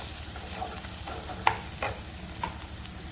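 Onion, tomato, garlic and Kashmiri chili sauté in a spoonful of oil for soybean masala, a soft continuous sizzle close by with a few light clinks of a spoon against the pan.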